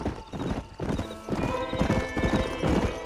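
Galloping horse hooves pound in a steady rapid rhythm, loud and close, with a brief whinny, from the video game Red Dead Redemption; no talk is heard.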